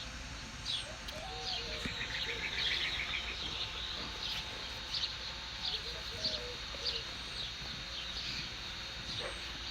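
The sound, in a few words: birds chirping at sunset in Arizona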